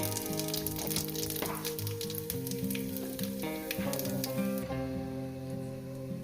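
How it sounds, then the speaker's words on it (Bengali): Panch phoron spices crackle and sizzle in hot oil in a steady frying hiss with sharp little pops, while sustained musical tones play underneath throughout. "দিয়ে দেবো একটু পাঁচ ফোড়ন"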